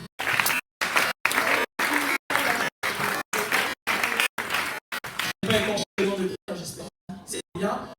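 Church congregation applauding God, a dense, loud burst of many hands clapping that keeps cutting in and out in short chopped segments, with voices mixed in among the crowd.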